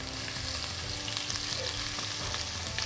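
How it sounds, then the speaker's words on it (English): Onions sauté in hot oil with a steady, close, continuous sizzle and crackle, alone without talk. "Saute your onions. That's once your oil gets hot."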